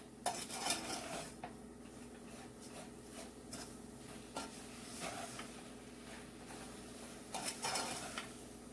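Papaya and sugar are stirred in a pot with a utensil, giving faint, continuous scraping and clinking against the metal, with occasional louder knocks.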